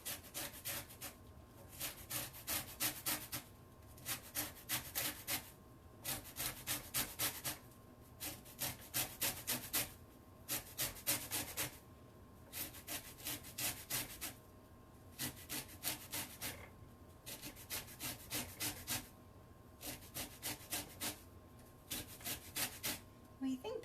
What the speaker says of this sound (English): We're going to do some lemon zest.